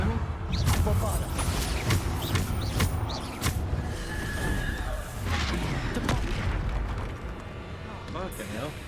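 Bombarda spell blasts thud and boom repeatedly during a Hogwarts Legacy fight, mixed with crackling effects and clashing noises, while someone talks over the action throughout.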